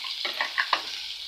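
Onion frying in a pan for cauliflower gravy makes a faint, steady sizzle, with three or four quick light clicks of a spoon stirring.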